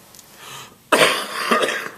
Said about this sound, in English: As you can tell, I have a cough.